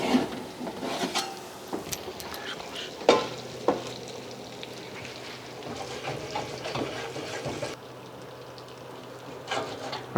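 Butter bubbling and browning in a pan, a close steady sizzle broken by scraping stirs and clinks of a fork against the pan, no voices.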